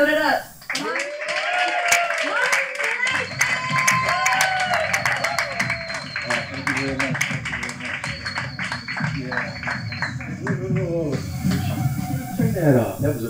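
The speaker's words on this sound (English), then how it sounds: "That was obligatory applause" Comedy show audience clapping and cheering on cue, a burst of close, dense applause that swells and holds, with a few voices and whoops mixed in before it fades.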